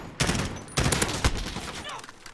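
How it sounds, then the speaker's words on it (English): An M-16 in Call of Duty Modern Warfare fires in clipped three-round bursts, with two loud bursts close together and a softer trailing shot, set against a steady game backdrop. "3 bursts of 3 rounds will come out every time you pull the trigger, and the 4th one will just be 1 shot"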